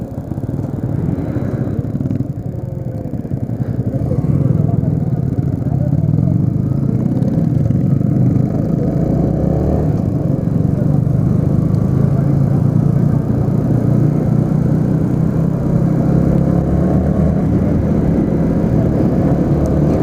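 A Yamaha R15 V3 BS4 motorcycle, in slightly poor condition, accelerates hard in a top speed run, its close, loud engine note climbing steadily upward over a rough mechanical rumble.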